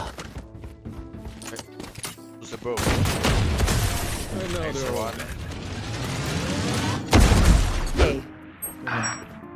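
Rapid bursts of video game gunfire crackle through a noisy firefight, with heavier blasts near the middle and end, while players talk excitedly over the shooting.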